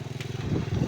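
A motorcycle passes near Sendang Gelis Cikahuripan in Purwakarta, its low putting engine swelling louder over under a second.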